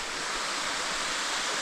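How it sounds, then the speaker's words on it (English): An outdoor waterfall gives a constant, dense rushing hiss close by, loud and unbroken throughout, with no voices over it. "waterfall."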